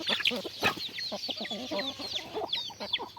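Busy clucking and chattering from a group of jungle fowl, a steady stream of short calls close by with one sharper squawk early on.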